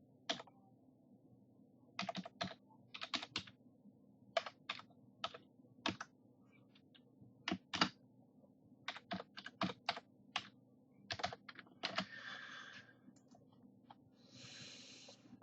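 Keys on a computer keyboard tapped to enter a username, in short irregular bursts of crisp clicks with pauses between them, close and fairly quiet against a faint low hum.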